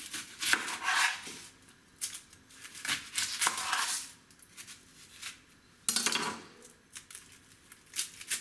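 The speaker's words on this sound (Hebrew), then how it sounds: "וקוצץ אותם, אפשר רק לפרוס אותם לפרוסות" Knife chopping onions into slices on a cutting board in a home kitchen, with irregular bursts of crisp chops and short pauses, close and clear with no voices.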